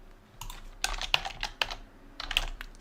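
Keys clattering on a computer keyboard in quick bursts of typing, close and crisp, with short pauses between runs.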